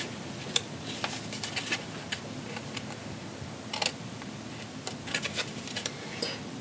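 Scissors snip the corners off folded paper in a quiet room, giving a series of short, faint, crisp cuts spaced irregularly, with no talking.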